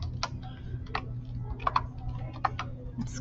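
Fingers tap an expression into a handheld calculator, a handful of light, sparse plastic key clicks at an irregular pace, close and fairly quiet, with no voices.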